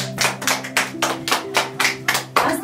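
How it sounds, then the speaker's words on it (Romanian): A short burst of hand clapping at a village surprise celebration, a few people applauding in an uneven rhythm over a sustained background tone. "Haideți să aplaudăm pe Elena!"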